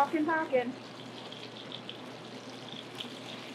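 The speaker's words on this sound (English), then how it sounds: "Nice sizzle." Fish fries in a pan, a faint, steady sizzle hissing in the background after a short burst of speech at the start.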